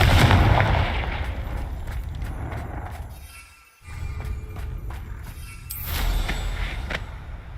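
A Confringo fire spell going off in the game Hogwarts Legacy: a loud roaring burst at the start that fades into rumbling and crackling, a short dip, then a second swelling blast with sharp crackles.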